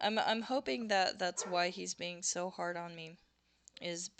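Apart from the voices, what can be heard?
No everyday noises stand out.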